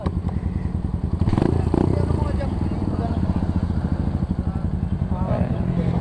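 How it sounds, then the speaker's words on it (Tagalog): Motorcycle engine running close by after a crash on a curve, with a steady, rapid chugging putter, continuous throughout; someone talks over it. "umandar yung motor. So pwede pang matakbo to."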